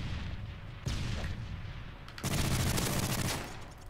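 Gunfire in Modern Warfare 3 online play: a sharp close shot followed by a louder rattling burst of rapid automatic fire, all within a few seconds, with no talk over it.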